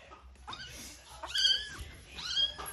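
A young kitten meows three times in quick succession, thin rising-and-falling cries that are fairly faint and close, with quiet room noise between them.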